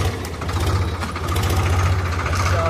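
A Sonalika tractor's diesel engine idles close by with a steady low, thrumming chug, running alone without talk.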